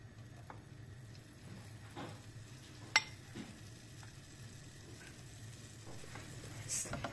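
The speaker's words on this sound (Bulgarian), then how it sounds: "И разбъркваме много енергично." Flour is stirred vigorously into melted butter and milk in a pan for chicken fricassee, giving a soft continuous scraping and sizzling with a few sharper utensil knocks against the pan.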